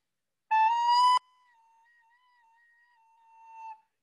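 A recorder gives a short loud, shrill squeak from a finger hole that is not properly covered, then a thin, quiet wavering tone that lingers and briefly swells before stopping.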